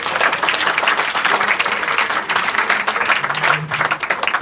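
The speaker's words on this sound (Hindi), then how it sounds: "तो जोरदार ताली बजाएंगे के लिए।" Steady, dense applause from a school audience in a classroom or hall, many hands clapping together loudly and continuously without a break.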